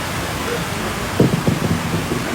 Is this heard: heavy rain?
yes